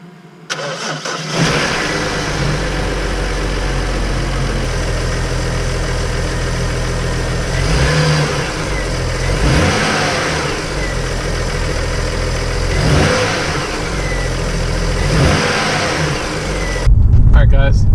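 A BMW E60 with the N54 engine cranks and fires up loud and close, then settles into idle with several distinct revs rising and falling, the blow-off valve huffing as each one drops off.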